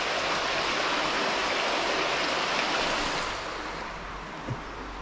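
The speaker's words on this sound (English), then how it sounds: "Water running somewhere." Stream of water running near a cave in Trento, Italy, a broad, steady rushing wash that eases slightly toward the end, with no voices.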